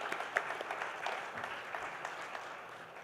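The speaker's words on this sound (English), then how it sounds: "they all deserve a big round of applause and appreciation" Applause from the audience at a leadership summit, fairly faint and distant, a dense patter of clapping with a few sharper claps standing out over roughly three seconds.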